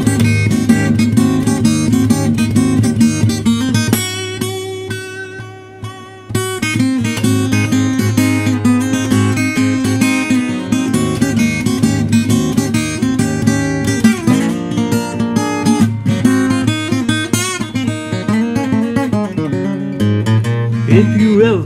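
Loud, continuous blues music imitates a train pulling out of a station, with dense sustained tones and a chugging pulse. There is a brief dip near five seconds, then the music builds again, with no speech over it.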